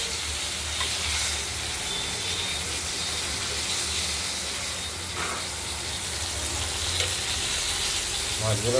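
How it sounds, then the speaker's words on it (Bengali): Katla fish pieces sizzle steadily in a hot pan, a dense, even frying hiss that runs without a break and stays close throughout. "মাছগুলো প্রায় ভাজা হয়ে এসেছে।"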